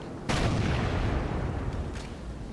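TNT is shot and explodes in the Sniper Elite Wii video game: a sudden loud blast with a long rumbling roar, followed by a fainter sharp crack near the end.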